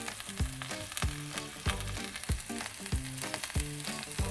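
Scallops sear in a hot pan over medium heat, a continuous close sizzle and crackle with repeated soft knocks and scrapes at a regular pace, and no voices.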